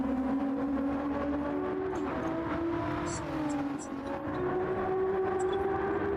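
A race car lapping in Gran Turismo 7 during an esports qualifier gives a continuous high engine drone whose pitch sags and climbs through corners, steady and prominent throughout.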